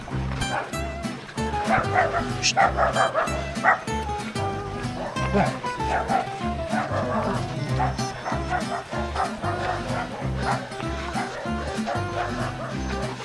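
Several dogs bark and yip excitedly in rapid bursts, close by, mixed with people talking and some whimpering.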